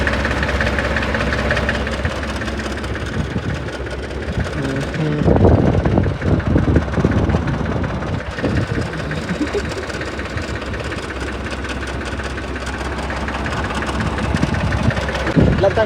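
A Kubota tractor engine runs steadily with a throbbing, knocking idle that holds near and constant, while a voice talks briefly over it in the middle.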